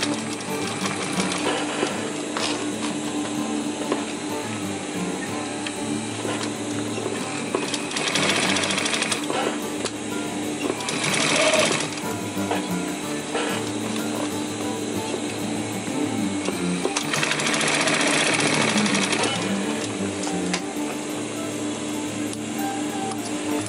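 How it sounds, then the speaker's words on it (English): A sewing machine runs through a dense stitch on a DIY rollup bag, a steady mechanical whir with quick needle ticks that swells in several louder bursts as the seam is gone over a few times. "we're going to sew that with denser stitch. Sew it a few times."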